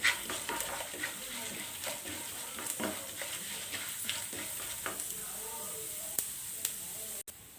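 Sliced onion and urad dal frying in a pan while being stirred, a continuous close sizzle broken by repeated scraping strokes and a few sharp clinks near the end; no speech.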